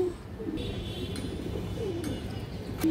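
A silver male pigeon coos softly in low repeated calls close by, with a faint background hum and no speech over it.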